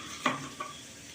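Capsicum frying with chopped ginger and chili is stirred in a pan: one sharp scrape and clatter, then a second softer stir, over a faint steady sizzle.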